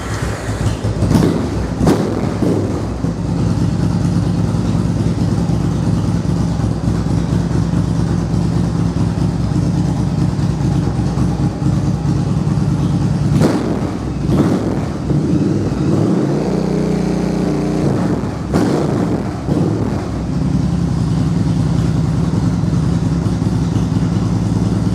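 A Bulldog engine started and left idling, a loud continuous rhythmic chugging and clatter that holds steady for the whole stretch, with a couple of brief louder bursts.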